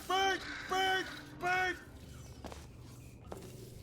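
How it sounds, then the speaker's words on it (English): In the video game Portal 2, a bird gives three loud, harsh caws in quick succession, followed by quieter scattered clicks and steps. "that's probably the bird in it that laid the eggs"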